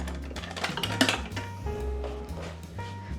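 Spatula clattering and scraping in a bowl while yeast and flour are mixed for gluten-free hamburger buns, a quick run of clinks and knocks up close with a louder clack near the middle.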